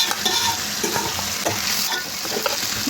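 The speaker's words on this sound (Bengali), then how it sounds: "পেঁয়াজ একটু হলুদের গুঁড়ো দিয়ে ভালো করে ভাজতেছি পেঁয়াজটা রসুন দিয়ে দিলাম" Onion frying in oil with turmeric powder, garlic and green chilies for a taro-leaf and hilsa dish, giving a dense continuous sizzle up close, with light scraping of a spoon stirring throughout and no talking.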